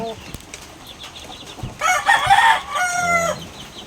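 A white Kelso rooster crows loudly and close by amid clucking chickens, one long strained call rising and breaking off, followed by shorter harsh notes over faint background farmyard noise.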